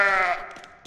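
A goat bleats in the Goat Simulator video game, one wavering, drawn-out cry that is loud and close and fades out, with no talk over it.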